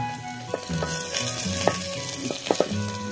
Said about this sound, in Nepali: अब म चाहिँ प्याज हालिदिन्छु यहाँ। वाउ कस्तो करायो